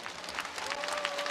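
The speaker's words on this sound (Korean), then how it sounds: "열심히 싸워 양 선수에게 힘찬 응원의 박수 보내시기 바랍니다." A short burst of audience applause after a middleweight boxing championship bout, steady clapping at moderate volume filling the arena.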